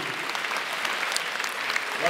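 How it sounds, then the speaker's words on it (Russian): An audience at a celebratory concert claps in a dense, continuous round of applause, steady and fairly loud throughout. "Ваши аплодисменты, друзья."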